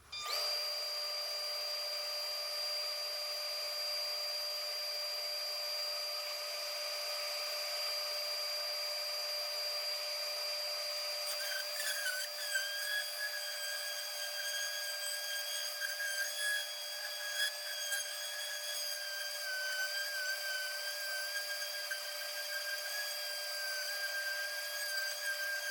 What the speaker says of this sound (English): get it ready for the finishing process, which involves a lot of sanding